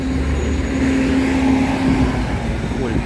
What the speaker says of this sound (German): Ah, der andere Bus.